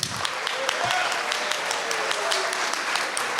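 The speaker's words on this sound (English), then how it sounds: "Let's give it up for our panelists real quick." An audience at a film and TV panel discussion applauds its panelists, with steady, dense clapping running throughout and a faint voice briefly underneath.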